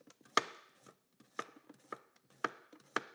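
A knife chops cucumber on a chopping board in a home kitchen, making about six sharp, separate chops at an uneven pace. Each chop is close and crisp, with quiet gaps between them and no talking.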